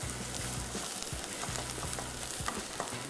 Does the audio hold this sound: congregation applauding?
no